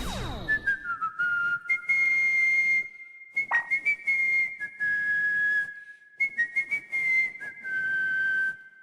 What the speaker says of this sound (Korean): 휘파람 부른다고?